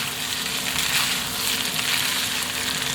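Fried eggplant sizzles steadily in a pan while being stirred, a dense, even crackle and hiss that holds close and loud throughout with no voices.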